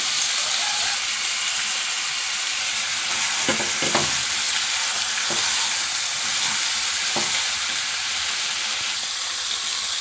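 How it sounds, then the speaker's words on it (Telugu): Country chicken (natukodi) frying in a pan with masala paste and chilli powder makes a loud, continuous sizzle, broken by a few sharp stirring clinks near the middle, with no talking. "పేస్ట్ వేగాక చికెన్ వేసుకున్నాం, కారం వేసుకున్నామండి."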